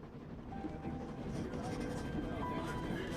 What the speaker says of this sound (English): I'm on a train heading out of Germany